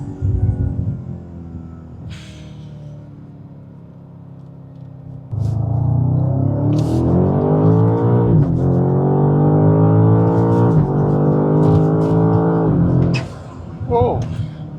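A BMW G90 M5 fitted with Armaspeed intakes idles low, then the engine and exhaust swell into a loud sustained drone with rising revs for several seconds before dropping back, with someone talking over it.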